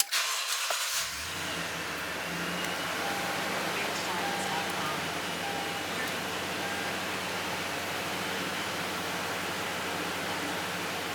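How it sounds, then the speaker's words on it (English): A 2013 Toyota Tundra engine fires up after an oil change, a short burst at the start settling straight into a steady, loud low idle drone that continues throughout. "Next thing to do is to start the vehicle."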